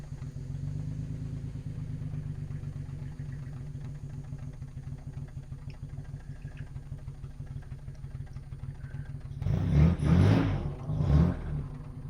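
A Jaguar XK150 classic car engine rumbles steadily while driving on back roads, a low throbbing drone that swells louder near the end.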